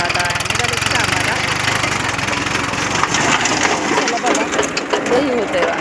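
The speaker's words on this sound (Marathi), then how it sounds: "तर आमचं बघा कसे ट्रॅक्टर आता निघालेच कामाला" A farm tractor fitted with a large rotor sets off for field work. Its engine runs loud, close and steady throughout, with a rough, rattling drone, while people talk over it.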